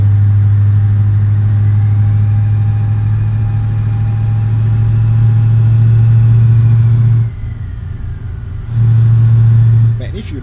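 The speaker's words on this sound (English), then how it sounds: "If you listen to this engine with headphones, the bass is heavy." Euro Truck Simulator 2 truck engine running steadily with a heavy, deep bass drone, loud and close. The engine drops off briefly near the end, then resumes, followed by a short hiss like an air brake.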